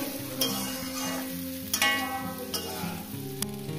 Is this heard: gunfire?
no